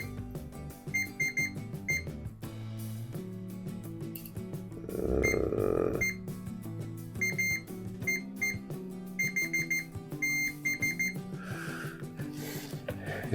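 A multimeter continuity tester beeps in repeated short electronic tones while its probes touch a Game Boy Color circuit board, with faint background music underneath.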